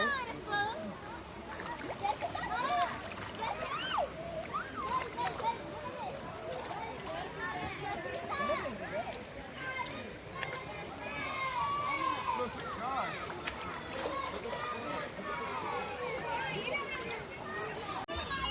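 Kids playing in water at an outdoor bathing spot, with bursts of splashing and splatter mixed into steady excited chatter and shouts from several children throughout.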